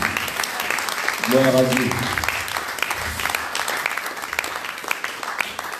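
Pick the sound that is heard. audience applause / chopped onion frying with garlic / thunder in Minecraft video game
audience applause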